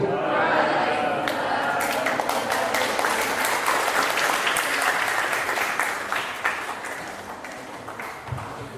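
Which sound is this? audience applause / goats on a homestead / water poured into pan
audience applause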